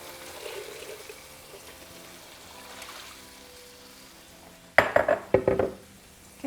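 Chipotle meatball sauce is stirred in a pan, quiet liquid sloshing for several seconds, then a few sharp clinks and scrapes of a utensil against the pan near the end, close and fairly loud.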